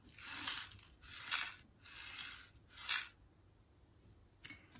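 Box from a Fairyloot book subscription unboxing, shaken so its contents rattle in four distinct bursts and a brief fifth, close up with no talking.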